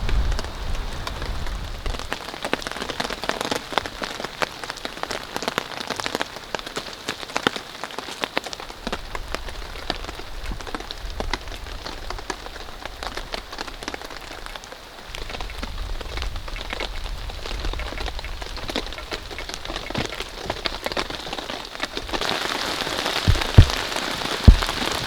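Rain patters steadily on a camping tarp above a hammock, a dense continuous hiss with scattered heavier drops, close and even, swelling brighter near the end; no voices.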